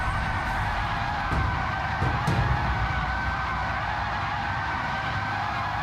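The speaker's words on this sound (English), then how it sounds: "You can already hear tyres squealing." Race car engines in Gran Turismo 7 drone steadily with tyres squealing and sliding during an online lobby race, a few brief louder bursts around the middle, no talking.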